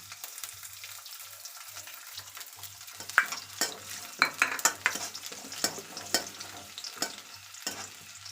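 Cumin and garlic sizzle in an iron pan, a steady close crackle broken by a series of sharp scraping stirs and clinks, with a low intermittent hum underneath.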